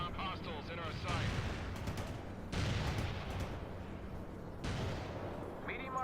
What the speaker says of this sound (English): This is just the artillery.